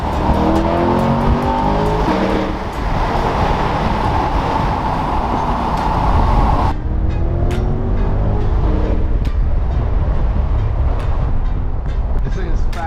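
2021 Corvette Stingray accelerating hard, a loud continuous engine roar with rising pitch sweeps through successive gears, heard from inside the car with a voice speaking over it.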